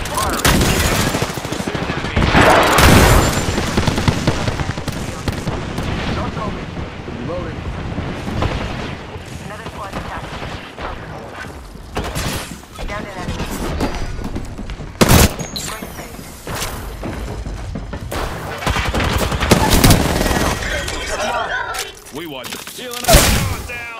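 Heavy bursts of automatic gunfire and booming explosions in the battle royale video game Apex Legends, loud and repeated, with a game character's voice lines talking over the action.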